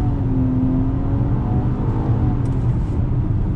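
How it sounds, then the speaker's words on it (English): A 2020 Nissan Maxima engine, revved in park, hums and whirs steadily at a constant loud level, a continuous close drone without clear revving surges. "Just sitting in neutral or in park and revving the engine, it's got a great sound to it"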